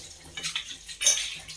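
Dishes and utensils are washed at a kitchen sink: soft clinks of cutlery and pots knocking together with a little running water, close by and quiet, in short irregular bursts.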